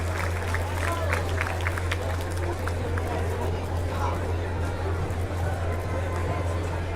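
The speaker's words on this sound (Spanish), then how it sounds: "Fuertes los aplausos para el equipo femenil en la categoría de pasarela de Santo Domingo de Tuxtepec" A crowd applauds the women's runway team from Santo Domingo de Tuxtepec at a sports inauguration in Tamazulapan del Espíritu Santo, with steady dense clapping and cheering, crowd murmur and a low electrical hum running throughout.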